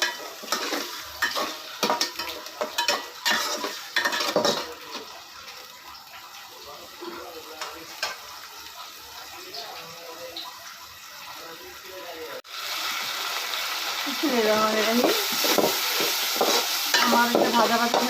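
Masala frying and being stirred in a pan over a wood-fired clay stove, with steady close sizzling and scraping strokes that grow louder and hiss more strongly in the last few seconds.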